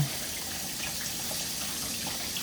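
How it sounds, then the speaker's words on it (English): Tap water runs steadily into a sink while hands are washed, a continuous close splashing gush with no talking. "Now let me wash my hands real quick."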